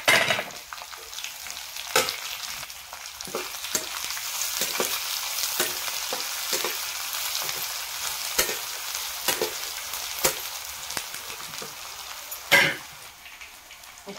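Chopped onion for kande pohe crackling in hot oil in a pan, a close steady sizzle punctuated by frequent sharp stirring scrapes and taps at an irregular rhythm.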